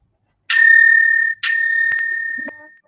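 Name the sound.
timekeeper ringing a bell at a debate competition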